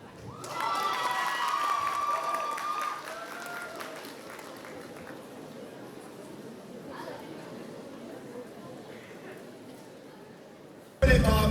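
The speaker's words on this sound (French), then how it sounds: "Est-ce qu'on peut faire un tonnerre d'applaudissements pour Neleaku" Audience at a cosplay contest at Chibi Rouen Hanami 2024 bursts into applause and cheering, loud clapping with shouts for a few seconds that then fades to a lighter, scattered patter of crowd noise.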